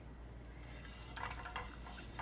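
Soft scraping of a spoon stirring a turmeric and salt mixture in a pot, a few quiet strokes in a row, faint and close, with no talking.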